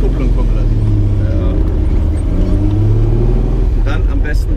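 A Triumph GT6 with its straight-six engine pulls away in first gear, a close, rising rumble swelling as the revs climb, with voices faintly mixed in under the engine noise.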